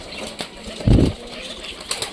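A single sharp flurry of wings as pigeons take off close by, brief and loud against a quiet background.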